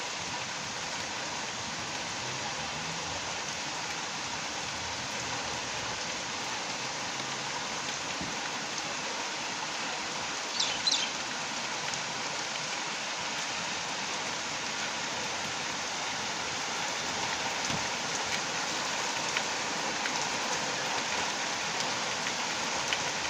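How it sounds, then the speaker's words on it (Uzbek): Heavy rain pours steadily onto a street in a continuous broadband hiss, even and unbroken for the whole stretch, with a faint brief knock or two partway through and no voices. "Ko'chamizda jala qo'yib, mana hamma ko'chada qoldi."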